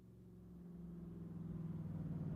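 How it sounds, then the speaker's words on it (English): An approaching car in a 1934 audio reenactment, its low engine rumble steadily growing louder as it draws near, heard alone without voices. "That's the car."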